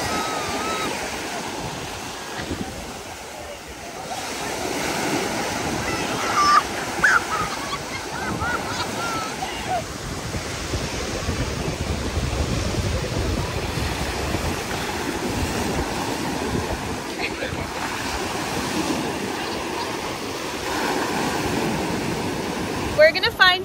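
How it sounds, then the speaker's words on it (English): Ocean surf rolls onto a sunny beach at Riviera Beach, Miami, Florida, a continuous broad wash of waves and wind under occasional voices and scattered brief honks. "We made it to the beach."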